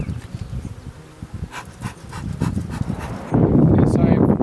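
Honeybees buzz around an open hive during an early-season inspection, a close, busy drone that thickens toward the end, with a voice talking over it.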